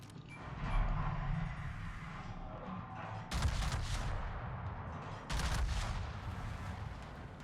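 Naval guns fire in the World of Warships video game, two heavy booming salvos rolling out over a continuous low engine and sea rumble at moderate volume.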